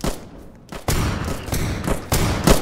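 Enfield rifle fire in the Roblox World War One trench shooter Trenches: a series of sharp, loud gunshot bursts at uneven intervals, some overlapping into a ragged volley, with booming battlefield noise between them.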